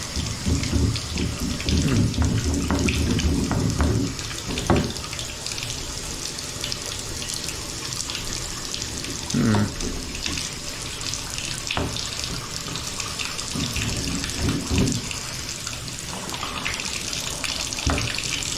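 Hot water runs steadily from a house faucet during a home inspection, a constant close rushing splash with small shifts in flow and a few faint knocks, no talking.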